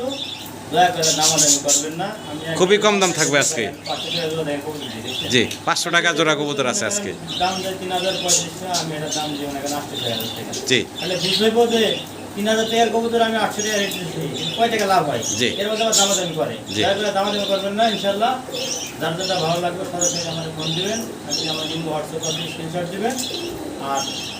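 Pigeons kept for sale coo and chirp softly at intervals, nearly buried under steady close conversation between people.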